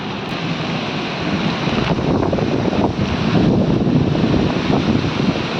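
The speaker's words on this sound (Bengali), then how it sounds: "বাইরে প্রচণ্ড আজকে ঝড় বৃষ্টি শুরু হয়েছে" Strong wind roars steadily into the microphone, a constant buffeting rush with no voices, like a storm blowing outside.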